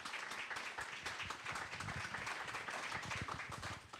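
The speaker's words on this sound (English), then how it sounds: "Let's give all the candidates another round of applause." Applause from an audience at a 2022 candidate forum for the 16th Middlesex District, a steady, moderately loud wash of many hands clapping that holds for about four seconds.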